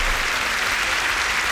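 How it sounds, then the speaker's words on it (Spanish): Steady, dense applause from a congregation at a church service, continuous and fairly loud throughout with no voices standing out. "Vamos a aplaudir al Señor Jesús."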